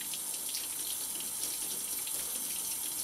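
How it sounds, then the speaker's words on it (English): A trumpet valve is rinsed under a running tap, giving a steady, close hiss of flowing water with faint splashing and no voices. "I'm simply going to rinse off the valve."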